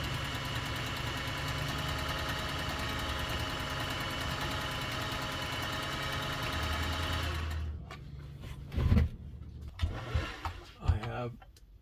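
Singer 404 sewing machine stitching at a steady, even whirr that runs for several seconds before stopping, followed by a few short mechanical clunks and faint movement.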